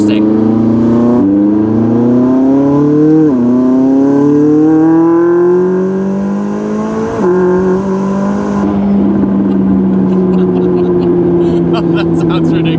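A McLaren 600LT engine, tuned, revs up through rising gear pulls on a wet road, loud and close, with a shift or two and a steady drone afterward.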